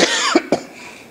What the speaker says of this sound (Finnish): Anteeksi nyt kun yskittää.